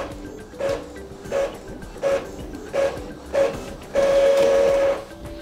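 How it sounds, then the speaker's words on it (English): An Epson EcoTank ET-4700 inkjet printer runs off a report, making a steady series of rhythmic mechanical whirring passes about every second that build into a longer continuous feed run near the end, close and fairly loud. "So here we have the printed report."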